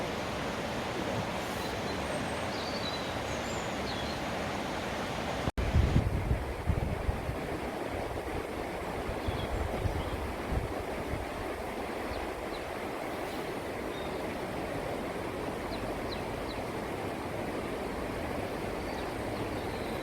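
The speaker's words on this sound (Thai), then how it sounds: "น้ำไหล" A stream flows in Bamberg, a steady broadband rush of water throughout with a louder disturbance around the middle, and no talk.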